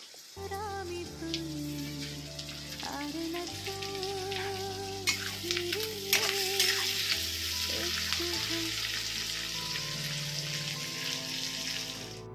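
Chopped tomato frying with onions in a pan, a continuous soft sizzle with occasional splutters over steady background music, no voices.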